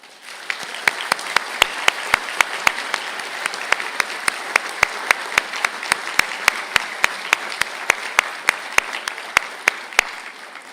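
A round of applause at a university conferring ceremony in Galway, with sharp, regular clicks ticking throughout over a broad, even wash of clapping from the hall.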